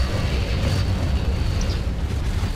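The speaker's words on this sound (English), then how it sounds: "Explosions!" A dense, rumbling roar of explosions in the video game Dust: An Elysian Tail, steady and loud throughout with no pauses.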